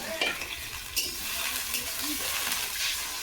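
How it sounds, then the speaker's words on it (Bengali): Food sizzles in a frying pan while being stirred, a close, continuous hiss with scraping strokes and no voices. "এই সব কিছু ভাজা ভাজা হয়ে গেছে আর এখন দিয়ে দেবো জল"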